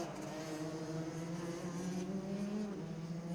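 Racing karts, including a B-Rail Stratos RL, run laps at Shah Alam Karting Circuit. Their engines make a steady, loud, buzzing drone that rises and falls slightly without a break, and the sound gets a little higher toward the end.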